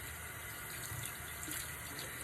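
Tap water runs steadily into a sink as a paint brush is rinsed, a dense, continuous splashing rush with no talking.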